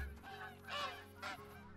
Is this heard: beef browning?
no